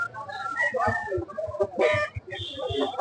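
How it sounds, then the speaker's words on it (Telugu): Chickens clucking up close in short bursts at a poultry market in Anantapur, with a brief crowing note and some nearby voices mixed in. "కోడి కొంచెం పైకి లేపండి"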